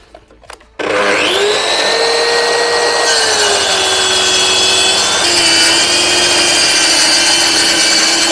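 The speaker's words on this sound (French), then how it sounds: "je vais faire une coupe à 45 dans le massif. Toujours avec la lame 32 dents." A Mafell MT55 plunge saw with a 32-tooth blade makes a 45-degree cut in solid wood, starting after a short quiet moment with a loud, steady whine that holds for the rest of the clip.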